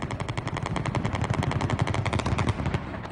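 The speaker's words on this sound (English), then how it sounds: "A hail of bullets descending from a helicopter." Rapid bursts of machine-gun fire from a helicopter rattle continuously, loud and dense, with no voices.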